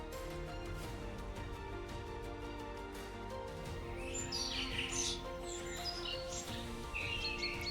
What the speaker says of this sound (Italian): La melodia degli uccelli riempie l'aria creando un sottofondo armonioso che contribuisce alla magica atmosfera del luogo.